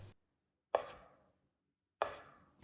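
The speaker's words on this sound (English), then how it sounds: "Cut into about 1 inch pieces." A knife cuts a rolled rope of cavatelli pasta dough into roughly one-inch pieces: two crisp, isolated chops against a board, well spaced in otherwise quiet surroundings.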